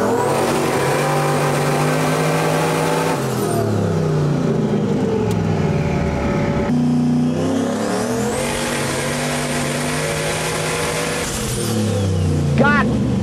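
Coyote-swapped Foxbody Mustang V8 on a dyno, revving hard through repeated rising and falling sweeps with uneven misfiring, loud and close, while a voice talks over it.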